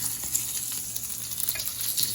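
Bacon frying in a pan gives a steady, close crackling sizzle with scattered small pops throughout, no voices over it.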